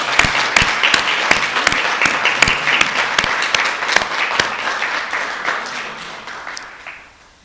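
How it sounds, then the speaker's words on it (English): A roomful of people at a student awards ceremony applauds, with dense clapping that holds steady and then gradually thins and fades out. "Please give a huge applause for all of these great students among us."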